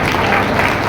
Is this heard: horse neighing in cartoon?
no